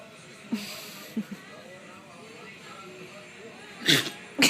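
A pit bull sneezes near the microphone, a couple of short sharp bursts, including one strong snorting sneeze close to the end, with quiet background and brief soft voice sounds between.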